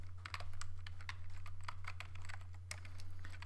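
Steady close-up typing on a computer keyboard, a brisk run of crisp key clicks with only short gaps, set over a constant low electrical hum.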